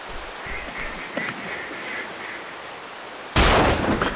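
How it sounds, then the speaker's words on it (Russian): Duck shot in the video game XIII: several faint nasal quacks repeat at a moderate distance, then a sudden loud gunshot blast cuts in near the end and rings out. "Утку подбил."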